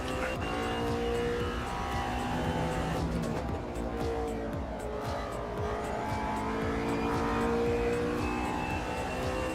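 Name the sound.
LMP1 race car engines in AMS2 video game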